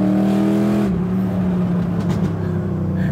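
An LS V8 police car, a Chevy SS/Camaro-type platform, burbles steadily up close, its exhaust letting out a few faint crackles and pops partway through.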